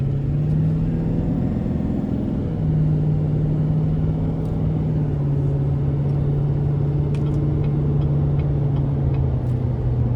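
A 2016 GMC Sierra 3500HD Denali dually pickup with a 6.6 turbodiesel V8 accelerating hard, its deep steady engine drone and rumble rising slightly in pitch, loud and continuous from inside the cab.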